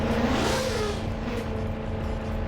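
Car engine revving hard at a standing launch in Roblox Drive World, a continuous loud droning roar with a rising pitch sweep and no voices.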